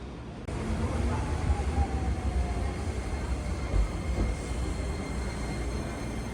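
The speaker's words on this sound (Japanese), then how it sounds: "電車が動きます。" Sunrise Izumo sleeper train starting to move, a steady low rumble and rolling wheel noise building from near silence and holding loud and continuous throughout.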